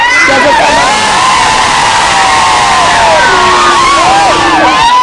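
Loud, dense crowd cheering and whooping at an outdoor bullock cart race ground, with whistles and shrill shouts rising over a continuous roar of many voices.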